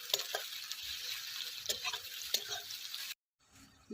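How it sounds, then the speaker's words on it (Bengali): Onions fry in a pan with a fairly quiet, steady sizzle broken by scraping stirs, then cut off abruptly into near silence before the frying sound returns faintly. "পেঁয়াজগুলো ভাজা হয়ে গেছে"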